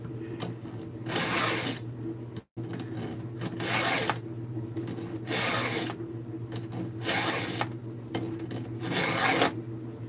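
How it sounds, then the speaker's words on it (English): A hand file rasps across a Husqvarna chainsaw chain on a 24-inch lightweight bar in a steady series of short strokes, each stroke a bright scraping burst about a second long, close up over a constant low mechanical hum. "This is my preferred way to sharpen. Only take a couple of swipes."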